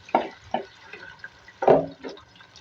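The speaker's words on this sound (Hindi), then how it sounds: "और जो मसाला है इसको थोड़ा सा पानी देके इसको साफ करना।" Water is poured into a container to rinse leftover masala from it while cooking chicken taheri, heard as a few short irregular splashes and drips, close and moderately loud, with no talking.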